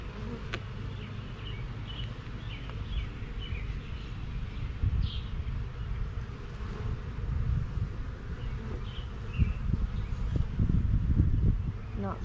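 Honey bees hum in a steady low buzz around opened hive frames of brood, with occasional louder passes close by, while someone talks over them.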